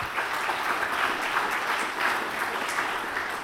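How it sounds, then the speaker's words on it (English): Audience applause at a Qt World Summit 2015 conference lightning talk on the Qt 3D asset pipeline, a steady dense clapping that fills the room without a break for a few seconds. "Let's hear it for Laszlo."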